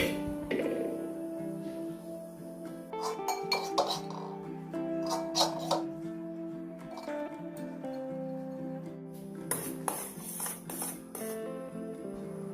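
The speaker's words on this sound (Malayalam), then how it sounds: "ഇനി നമുക്ക് വറുത്തെടുത്ത നാളികേരവും ഉരുളിയിൽ നിന്ന് മാറ്റാം." A metal spoon clinks and scrapes against an uruli cooking pot while roasted coconut is moved out, irregular close clatters and taps separated by quiet stretches, with no talk.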